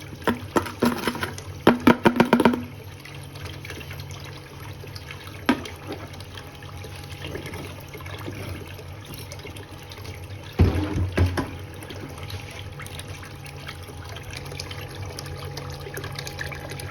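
Water is poured into a Gold Box gold extractor at a brook, a low gurgling flow with splashy bursts near the start and again later, over a constant background rush of running water.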